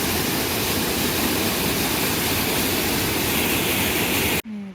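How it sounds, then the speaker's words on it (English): A waterfall feeding Gibson Lake on a wilderness canoe route roars as a loud, steady broadband rush close by, then cuts off abruptly near the end. "Of the waterfall we just checked out"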